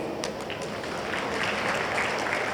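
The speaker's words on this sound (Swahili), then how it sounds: "naomba mimi nipigie makofi" A crowd applauds at a stadium rally in Dar es Salaam during a politician's speech. Dense, continuous clapping and crowd noise fills the whole stretch, with no voice on top.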